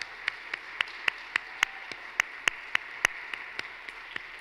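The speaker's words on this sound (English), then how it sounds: "I'd like to give all the staff of Women's Center and Shelter another round of applause for all their tireless work" Sparse, evenly spaced claps ring out at a Women's Center and Shelter 50th anniversary community celebration, about fifteen sharp slaps in a steady rhythm over a quiet room with no talk.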